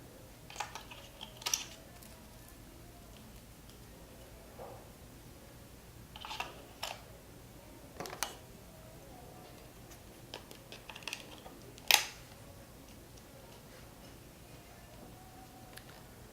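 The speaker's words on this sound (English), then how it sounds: "So let me put these batteries in and I will fire it up." Small plastic clicks and taps while batteries go into a Zoom H3VR recorder, scattered sparse knocks over a quiet background.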